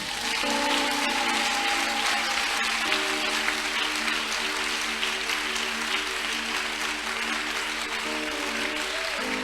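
A church congregation at a Sunday service applauds steadily and loudly, with dense, sustained clapping that fills the room throughout.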